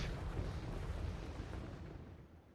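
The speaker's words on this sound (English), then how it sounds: "More rockets flying in the air, as it sounds." Rockets in a Warhammer strategy game fire and explode, a deep rumbling blast with a noisy burst at the start that swells and then slowly fades away.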